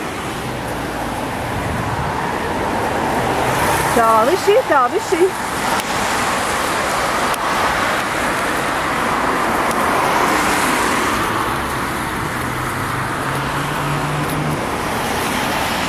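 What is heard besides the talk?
cars passing in street traffic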